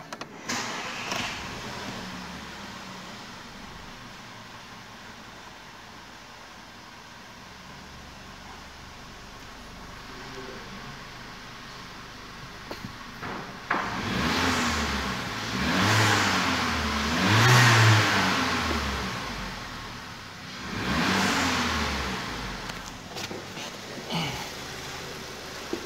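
An Audi TFSI turbo engine after turbo repair, faint at first, then revving in several rising and falling pulls, moderately close, with brief talk in the background.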